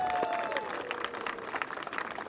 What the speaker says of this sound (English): So let's give OEWD a big round of applause.